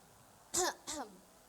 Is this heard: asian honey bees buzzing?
no